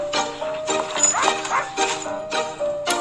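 A dog barks in a short run of several sharp yips and woofs, fairly close, with a person talking over and between the barks.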